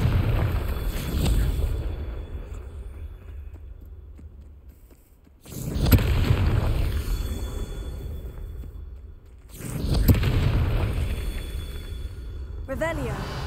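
Fiery Confringo spell blasts in the video game Hogwarts Legacy, two loud booming bursts with rumbling tails over a steady, airy ambient background.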